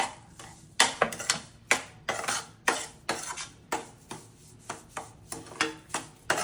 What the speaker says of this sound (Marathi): परत रवा चांगल्या पद्धतीने हलवून घ्यायचा तुपामध्ये